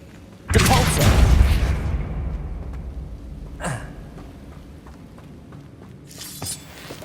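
A Depulso spell cast in Hogwarts Legacy erupts in a sudden loud whooshing blast that slowly decays, followed by a sharp swish a few seconds later and a fainter burst near the end, with a voice speaking briefly.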